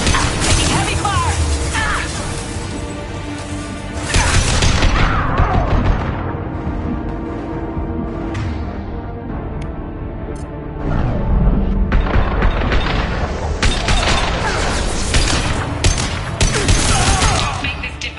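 Sustained heavy gunfire and combat noise from the video game Mass Effect 2, dense and loud throughout with surges of intensity, voices shouting over the firefight.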